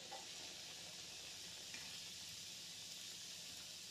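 Veg spring rolls fry in hot oil over a medium gas flame, giving a steady, soft sizzling hiss that runs evenly throughout with no voices.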